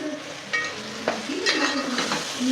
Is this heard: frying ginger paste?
yes